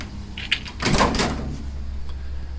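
Lift-off door of a Pontiac race car being handled, with a sharp knock, then a louder scraping clunk of metal panel shifting, followed by quieter rattles.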